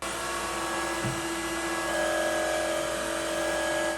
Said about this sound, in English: I can hear when the machine goes into spot mode because the motor speed increases and the machine gets slightly louder